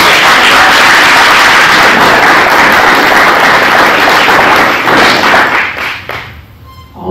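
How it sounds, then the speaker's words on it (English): An audience at a school board meeting gives sustained loud applause for students' parents, dense clapping for several seconds before it thins out and fades near the end. "maybe you could have your parents stand up and we could applaud for them too"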